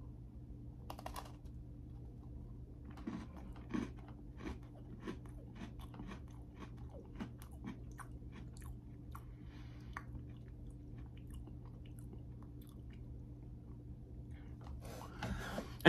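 Close, quiet crunching bites and chewing of a Black & White Cookie Oreo, a vanilla-style sandwich cookie, as soft irregular crisp snaps spread across a hushed room with no talking.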